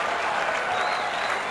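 Dense, loud applause and cheering from a cricket crowd celebrating a West Indies one-day win over Australia, a continuous roar of clapping with faint commentary underneath.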